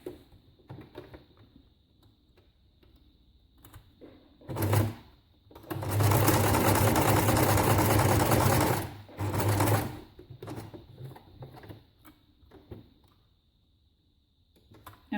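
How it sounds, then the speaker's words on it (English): A sewing machine stitches brown cotton thread in two loud bursts of rapid mechanical whirring, a short one then a longer run of a few seconds, between quieter clicks and handling sounds. "So I think my sewing machine is going to be super loud."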